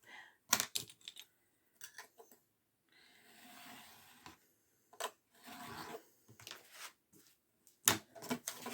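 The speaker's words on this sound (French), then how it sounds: "Donc je vais découper au cutter." Craft knife slicing through card while making a handmade Christmas Advent card, a series of short, close scraping strokes with quiet pauses and one longer steady drag.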